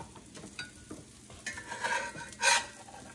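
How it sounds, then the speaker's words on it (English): Tuna fish cakes fry in a home kitchen pan, giving a soft steady sizzle broken by a few light scrapes and stirring touches, with a brighter burst of crackle near the end. "we're gonna take probably at least about 2 more minutes to cook the remainder of this tuna, of these fish patties"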